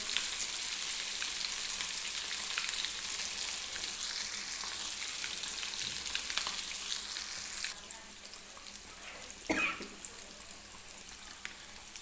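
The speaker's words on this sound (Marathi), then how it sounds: "तर मीडियम गॅसवरती आपल्याला हे तळून घ्यायचं आहे." Samosas deep frying in oil over medium heat give a steady, continuous sizzle and bubbling hiss throughout, with a brief clatter near the end; no one speaks.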